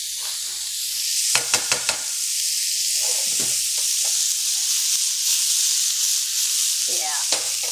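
Chicken frying in a pan for chicken fried rice: a steady, fairly loud sizzle throughout, broken by a few sharp clicks and scrapes of stirring.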